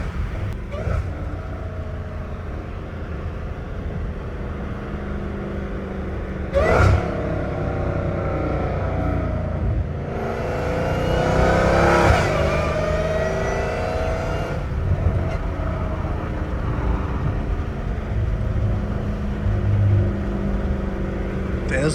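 A Dodge Hellcat Redeye V8 revs on a Los Angeles street, its loud engine roar rising and swelling in several bursts over steady background rumble, with excited voices nearby.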